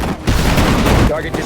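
Dense battlefield gunfire and explosions from the WWII strategy game Sudden Strike 4, loud and continuous, with game unit voice lines mixed in.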